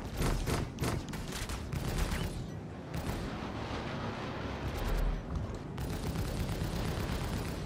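Gunfire in the space game Star Citizen, with bursts of rapid shots early on, then a steady roar of weapons and explosions that keeps up throughout the stretch.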